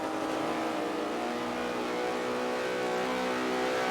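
A Porsche race car in a racing video game screaming down the straight, its engine a loud, sustained high-revving drone held throughout without interruption.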